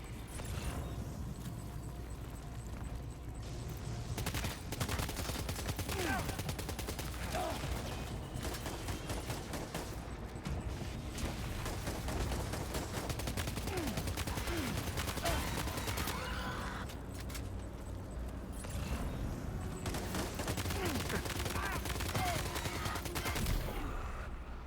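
Gunfire or firework bursts crackle in the video game Death Stranding 2 on the Beach, rapid volleys of sharp pops at moderate loudness with brief lulls, under occasional commentary.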